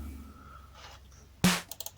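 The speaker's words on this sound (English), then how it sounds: "Now we've got a couple of claps, like a layered clap." Layered clap samples in a hip hop drum beat made in Reason, one loud crisp clap hit followed by a quick run of three shorter, lighter claps, heard alone over a faint background.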